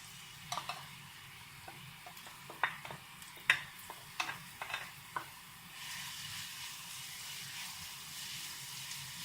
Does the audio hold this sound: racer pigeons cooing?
no